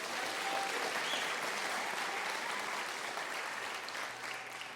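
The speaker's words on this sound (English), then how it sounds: "they do deserve a big round of applause for their work" Theater audience applauding the crew of a live music show, a steady, dense wash of clapping that holds for the whole stretch without talk over it.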